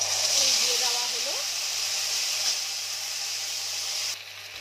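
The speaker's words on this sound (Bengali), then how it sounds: "সর্ষে, চলে গেল তেজপাতা, আদাও আছে এর মধ্যে দেওয়া। একটু নাড়াচাড়া হবে।" Mustard seeds, bay leaf and ginger fry in a pan with a steady, loud hiss that fills the clip. A voice is briefly heard early on, and the sizzle drops off sharply near the end.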